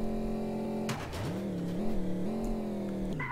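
A car engine in the driving game Project Wheels holds a steady drone, dips after a crash-like jolt, then climbs and wavers as it revs again, loud and close with no talking over it.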